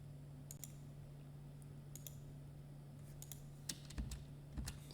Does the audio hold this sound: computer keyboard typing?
yes